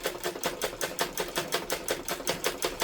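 A sewing machine stitches a layer of a three-layer dress with a fast, even run of rattling needle strokes, close and steady throughout.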